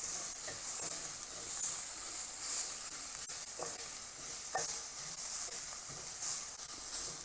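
Ginger garlic paste frying in a pot gives a continuous bright sizzle and hiss, broken by soft stirring scrapes and small spattering pops throughout, with no voices.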